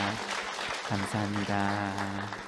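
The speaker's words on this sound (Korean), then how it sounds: "우리 박수로 한번 격려하도록 하겠습니다." A church congregation applauding during a Sunday worship service, a steady patter of clapping heard under someone speaking briefly.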